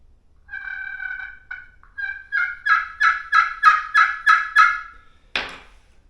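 A slate friction call rasps out turkey yelps, starting soft and slow, then a rising run of louder clucky notes, ending with a sharp cutting note.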